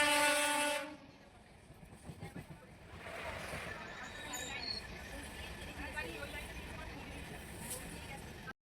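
Aboard a moving passenger train in India, a loud horn blast sounds for about a second at the start. Rumbling, rattling carriage noise then carries on steadily underneath, with a faint second horn-like tone in the middle.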